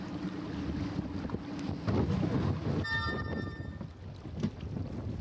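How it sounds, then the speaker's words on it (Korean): A small boat motors over the open sea off Staffa, a rocky, reef-strewn island in Scotland. A steady engine drone runs under constant wind buffeting and splashing water, with a brief high whine partway through. "스테핀 섬은 암초가 많고 배를 댈 수 없어 다시 작은 보트로 옮겨 탔다"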